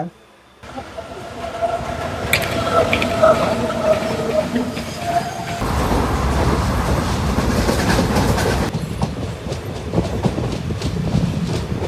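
A passenger train between Udupi and Murudeshwar, near Barkur station, rumbles steadily along the tracks with rhythmic clatter of the wheels, loud and close from inside the carriage, with faint voices now and then.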